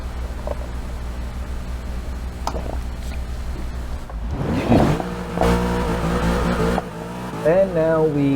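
A high-powered 5.7-liter V8 Camaro in a racing video game at Circuit of the Americas idles, then revs hard and accelerates through rising gear sweeps, loud and close over a steady background hum.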